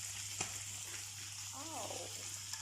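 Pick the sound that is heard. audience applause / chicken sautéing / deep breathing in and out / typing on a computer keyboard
chicken sautéing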